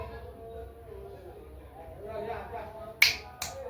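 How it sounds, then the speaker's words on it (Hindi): Fingers snap sharply, two crisp close snaps in quick succession near the end, after a stretch of quiet speech. "3 बार चुटकी बजा दें, गारंटी काम होगा।"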